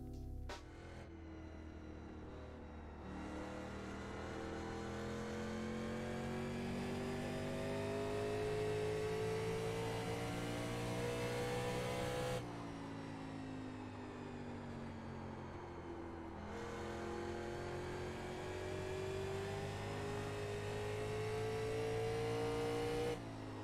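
A race car engine in the iRacing simulator drones at high, steady revs around an oval track, pitch slowly rising through long pulls, with two brief dips where the tone resets before climbing again; loud and continuous, no voices.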